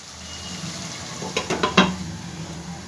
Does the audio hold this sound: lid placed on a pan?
yes